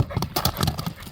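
Hooves of a light, quick horse for sale clip-clop in a fast, uneven rhythm, close and fairly loud, with faint snorting mixed in and no talk.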